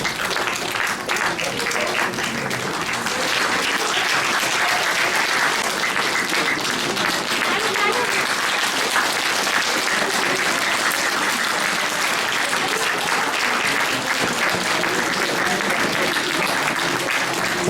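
A crowd at a church anniversary gathering in Kathmandu applauds warmly, a dense, sustained wash of clapping that carries on steadily for well over fifteen seconds without a break.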